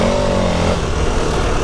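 A KTM 1290 Super Adventure S motorcycle accelerates with a loud, close engine note that holds a steady tone, then drops in pitch as the throttle eases.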